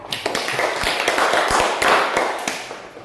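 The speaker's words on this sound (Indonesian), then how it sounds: "mari kita beri tepuk tangan dulu untuk kelompok 3" A classroom group claps for a presenting student team, a dense burst of hands close by with a few sharp louder claps standing out, lasting about three seconds.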